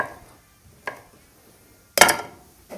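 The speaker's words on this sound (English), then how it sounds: "I got a chorizo sausage right here. I'm going to cut that up." A knife cuts up a chorizo sausage on a board, giving a few sharp, separate knocks: one light, then a louder double chop, with quiet between.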